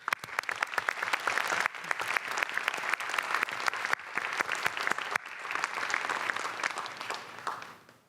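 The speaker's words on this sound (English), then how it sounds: "Please join me in a deserving round of applause for their collective work." An audience in a legislative chamber at the closing session of a House of Delegates gives a steady round of applause, dense clapping that runs continuously for about eight seconds with brief dips and no speech over it.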